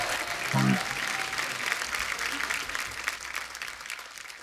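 Studio audience applauding for a singer on a comedy talk show, a steady broad wash of many hands clapping at moderate distance, with a brief voice near the start.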